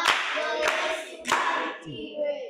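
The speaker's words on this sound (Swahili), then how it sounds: "Safi sana, mpigieni makofi." A small audience at a school talk gives a brief round of clapping, a few loose bursts of hand claps rising and falling over about two seconds, with a voice briefly heard between.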